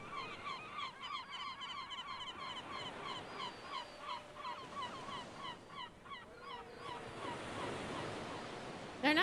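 Seagulls call again and again over whales feeding at sea, a dense overlapping chorus of honking cries carried above steady wind and surf noise, with no talk.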